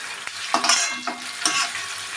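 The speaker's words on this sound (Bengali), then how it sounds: "এটাকে ফ্রাই করতে হবে ভালো করে" Jackfruit seeds fry in a pan, giving a continuous loud sizzle. A utensil stirs and scrapes them in quick, repeated strokes.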